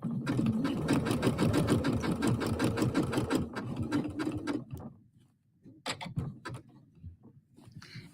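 A sewing machine stitches decorative thread in a fast, rhythmic, close mechanical chatter for several seconds, then stops, followed by a few separate clicks and handling noises.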